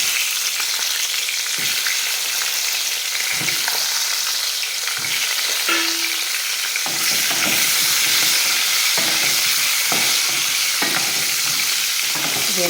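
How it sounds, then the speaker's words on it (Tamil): Pieces of home-grown eggplant fry in hot oil with a loud, continuous sizzle and hiss, broken by occasional stirring knocks, and no one speaks. "எல்லாமே எண்ணெயில் நல்லா வதங்கணும்"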